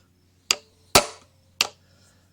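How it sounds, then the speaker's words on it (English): Impact driver hammering at a worn screw on a 1993 Johnson 40hp outboard motor, four sharp metallic impacts spaced irregularly, loud and close in a quiet setting. "Looks like this will take an impact driver."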